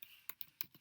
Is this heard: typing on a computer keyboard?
yes